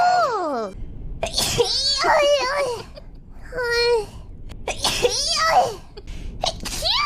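Several sneezes from a high-pitched, childlike voice, interspersed with squeaky vocal sounds and short spoken words.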